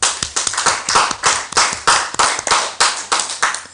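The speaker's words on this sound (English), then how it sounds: "Can we clap for her?" Audience at a hybrid mental health conference clapping for a presenter, a short burst of close, evenly spaced applause with distinct individual hand claps.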